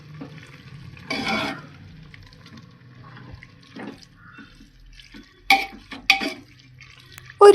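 Spice powders, turmeric, chicken masala and salt are stirred into squid masala in a pan, giving a few quiet, scattered scraping and sizzling bursts with stillness between them.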